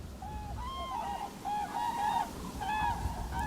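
A flock of geese honks repeatedly in overlapping nasal calls at moderate distance, steady and busy throughout with no voices, as birds gather before a sea eagle dives into their midst.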